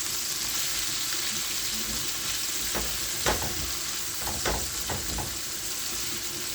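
Seasoning sautéing in a hot pan for callaloo rice, a steady, dense sizzle close up, broken by a few scraping stirs of a utensil, with no talking.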